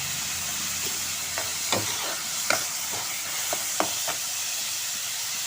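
Chopped onion and garlic sautéing in a pan with coarsely ground coriander seed, a steady close hiss of frying broken by a few sharp spatula scrapes and clinks, with no voices.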